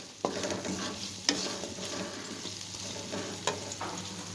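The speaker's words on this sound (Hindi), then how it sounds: "तो आलूओं को हम बहुत ही अच्छी तरह भून लेंगे 3 से 4 मिनट तक" Potatoes frying in oil in a pan, stirred so the spoon scrapes in a few distinct knocks over a continuous sizzle. Close, moderately loud, no voices.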